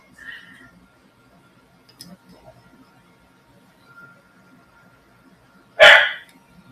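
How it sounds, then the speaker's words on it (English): A single loud, sharp dog bark near the end, preceded by faint, scattered background noises and quiet murmuring in a mostly still room. "can you hear the dog?"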